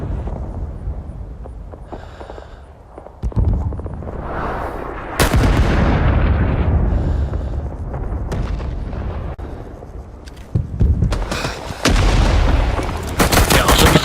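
Heavy gunfire and explosions pound almost nonstop in the Vietnam War shooter Rising Storm 2 on the Da Lat and Cu Chi maps, loud booming bursts and rattling shots crowding together with barely any pause.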